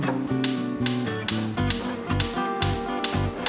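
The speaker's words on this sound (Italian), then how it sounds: "si sente il rumore classico della scintilla che scocca" Rapid, regular clicking of a gas stove igniter sparking while the faulty burner fails to light, a steady tick roughly every half second, close up with a faint hum behind it.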